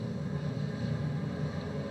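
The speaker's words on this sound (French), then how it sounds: "Il y a un camion qui vient, entendez-vous?" A low, steady engine rumble of an approaching truck drones continuously, fairly distant and muffled.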